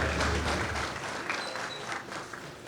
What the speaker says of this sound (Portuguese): Forte e calorosa salva de palmas